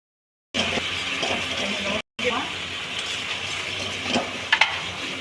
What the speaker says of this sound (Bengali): ভালো করে এরকম ভাজবো।